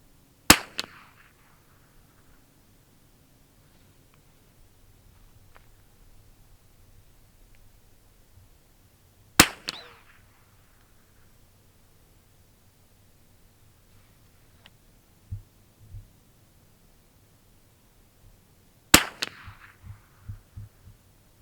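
An old Wards Western Field .22 rifle firing old ammunition: three sharp, short cracks about nine seconds apart, each standing alone against a quiet background with a few faint thumps between them.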